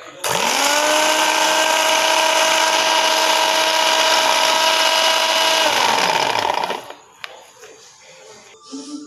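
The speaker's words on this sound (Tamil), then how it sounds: "இங்கே வந்து ரெண்டு முட்டை வச்சு நல்லா பீட் பண்ணி ஃபோமியாகிற வரையும் நல்லா பீட் பண்ணணும்." An electric mixer whirs steadily while beating two eggs until foamy for a sponge cake, its motor whine holding for several seconds before spinning down and leaving quiet kitchen clatter.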